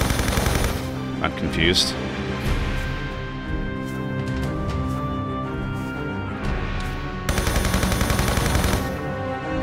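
Gunshots from Lara's guns in the Tomb Raider remastered ending battle, repeated sharp bursts over game music, with a voice talking briefly.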